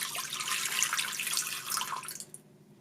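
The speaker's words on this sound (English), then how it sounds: "I'll pour in 8 ounces of water." Water pours steadily into a pressure cooker pot from close by, a bright continuous splashing that tapers off and stops near the end.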